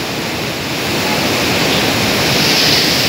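Water rushes loudly at the Gajoldoba barrage, a dense, unbroken roar close by with no other sounds standing out.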